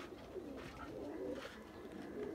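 Several red-eyed golden pigeons coo softly and continuously in a low, murmuring chorus, with steady background hum and no talk.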